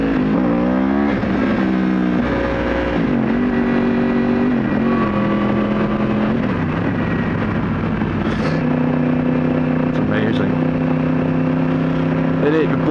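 A flashed Yamaha motorcycle engine roars loudly and close, revving and pulling hard through several rising pitch sweeps as it accelerates, with a voice talking over it.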